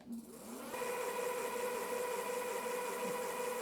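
Hiboy P6 electric scooter motor spun up to full throttle with the rear wheel off the ground, a rising electric whine that settles into a loud steady high-pitched hum, close and alone.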